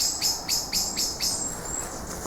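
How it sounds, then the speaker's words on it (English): Birds chirp and call repeatedly in an overgrown old cemetery, a string of bright, fairly close tweets over a soft insect-like hiss, with no talking. "The birds are really freaking out."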